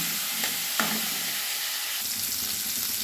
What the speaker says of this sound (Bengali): একটু লাল লাল করে ভেজে নেবো